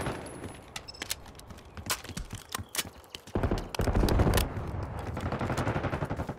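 Gunfire in the Black Ops 6 video game: sharp single shots and rapid automatic bursts crack repeatedly, growing denser into sustained firing in the second half, loud and close.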